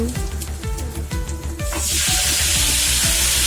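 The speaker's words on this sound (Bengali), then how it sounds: "ফোড়ন দেওয়া হলো শুকনো লঙ্কা তেজপাতা গোটা জিরে হিং" Dry red chilli, bay leaf, whole cumin and asafoetida tempered in hot oil: after a run of rhythmic metallic scraping, a loud, steady sizzle bursts in and holds close up to the end.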